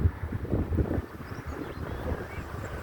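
Steady wind buffeting a microphone outdoors in a park, a low rumbling roar with gusty fluctuations and no voices.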